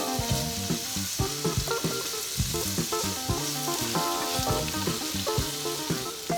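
Shrimp frying in a pan for fried rice, a steady loud sizzle with repeated clinks and scrapes of stirring, close and continuous throughout.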